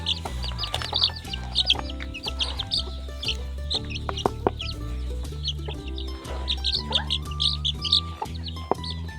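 Chicks cluck and peep near at hand while pecking at BSF larvae, with busy overlapping high chirps and soft clucks throughout and a few faint knocks in the background.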